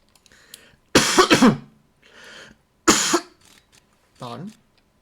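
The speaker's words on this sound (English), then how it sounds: "Don't really know what to say after coughing, so I'm just saying pardon." Two harsh, loud coughs close to the mic, separated by quieter throat noises, followed by a short voiced sound.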